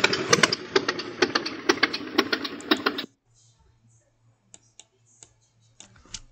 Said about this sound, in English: there is actually bike sound, so I'll go ahead and turn that up for a second